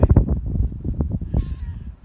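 A farm cat meows beside a tractor front wheel under repair, a short call amid clanking and handling noise close by, with no talk over it.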